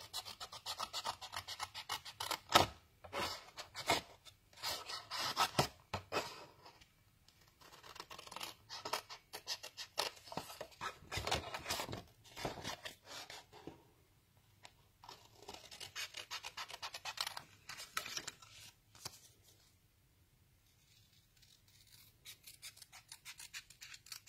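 Scissors cut out a piece of paper in long, steady rasping strokes, close and continuous, with brief pauses between runs of snipping.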